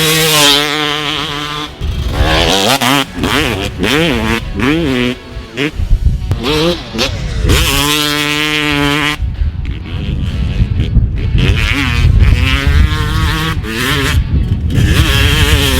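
A Yamaha YZ250 two-stroke motocross bike fitted with a Pro Circuit pipe, ridden hard with sharp rising and falling revs, loud buzzy bursts and brief off-throttle gaps as it passes near.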